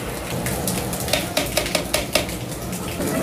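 A spoon stirs thick mutton gravy (kuzhambu) in a cooking pot, scraping and clinking against the metal in a steady run of short strokes over a low simmering sizzle, fairly close with no talking.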